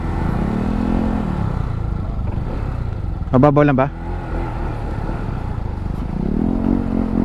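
Motorcycle engine idling and revving at a river crossing between Aurora and Quezon, a steady low rumble with slow swells, while someone speaks briefly in the middle over it.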